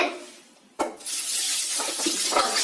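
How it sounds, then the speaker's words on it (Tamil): Running water splashes from a tap as goat legs are rinsed under it, a close, steady gush with small clunks, starting after a quiet moment. "இப்ப காலெல்லாம் கழுவி எடுத்துக்கலாங்க"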